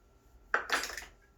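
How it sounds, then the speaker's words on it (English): Dry cake ingredients for a rhubarb upside-down cake being stirred together in a bowl, a short burst of utensil scraping and clinking against the bowl, fairly close, with no talk. "we'll just stir those together"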